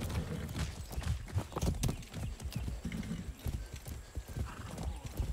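A horse in the video game Far Cry 6 clip-clops along in a steady galloping rhythm, with faint whinnies over rumbling game ambience.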